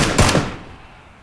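A quick burst of two or three sharp gunshots from the Battlegrounds video game rings out loud and close, then fades into near silence.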